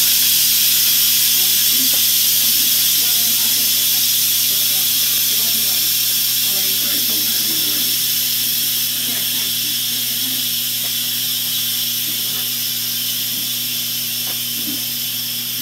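An Instant Pot Mini pressure cooker vents steam on quick release, giving a loud, continuous close hiss that holds steady the whole time and fades only slightly toward the end.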